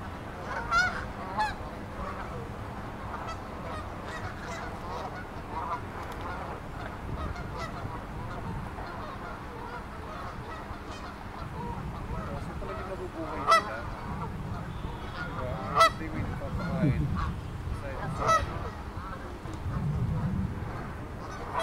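Geese honk repeatedly at a feeding spot in Whittier, California, their calls rising in scattered bursts over steady outdoor background noise, with faint voices now and then.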